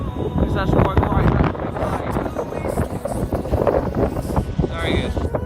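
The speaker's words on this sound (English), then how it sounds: "It's very, very windy." Strong wind roars and buffets the microphone on a hilltop in the Outer Hebrides, a loud continuous gusting rush with a speaking voice faintly mixed in.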